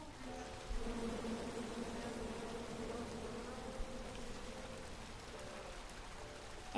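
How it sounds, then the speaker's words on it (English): Angry bees buzzing from a tree in the King's Quest video game, a steady droning hum that holds at an even level throughout with faint layered tones beneath. "you chop down the tree full of angry bees"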